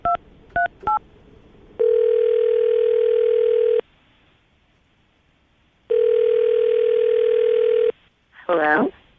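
Touch-tone keypad beeps dial a call, followed by two long steady telephone tones separated by a pause, as a morning radio show rings someone up; a voice picks up at the very end.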